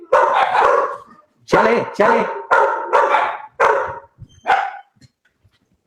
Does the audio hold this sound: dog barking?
yes